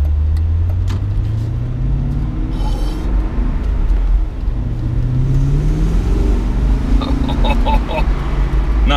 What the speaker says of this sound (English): inside the BMW Z8. I can't believe I'm actually driving this.